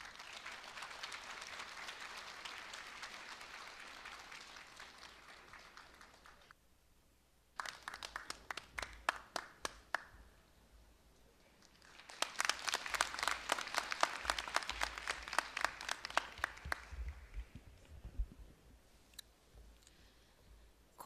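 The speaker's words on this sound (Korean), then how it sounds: "여러분 큰 박수로 맞이해 주시기 바랍니다" Audience at a Korea University graduation ceremony breaking into applause twice, a dense crackle of many hands clapping that swells, pauses, then returns louder before fading, heard at a distance in a large hall.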